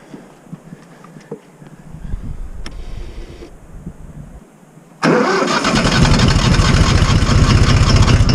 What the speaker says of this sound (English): We have to start the tractor up. Sometimes it's a pain when it's cold